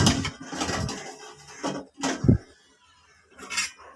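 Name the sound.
idli plates being placed into the idli cooker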